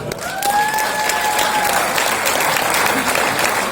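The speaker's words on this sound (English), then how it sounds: "One more round of applause." Audience at a film Q&A with the cast applauding, a steady dense wash of clapping throughout, with a brief tonal whistle-like sound early on.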